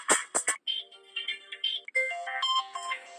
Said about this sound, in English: Lots of ringtones to choose from, very nice ones.